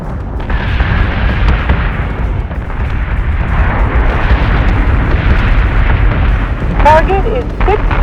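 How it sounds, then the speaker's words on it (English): A warship in the space battle game Battlestar Galactica Deadlock fires on a target: loud, continuous rumbling cannon fire and booms fill the scene, and a brief radio-like voice chatter cuts in near the end. "Firing on target."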